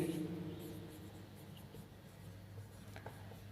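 Marker or chalk writing a cash-account journal entry on a classroom board, a faint scratchy stroke sound under a steady low room hum, with no talking.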